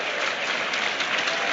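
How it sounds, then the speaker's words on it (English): Stadium crowd at the Emirates applauding during an Arsenal versus Manchester City match, a broad, sustained roar of clapping that stays loud and even throughout. "He applauds the Emirates, and the Emirates gladly applauds back."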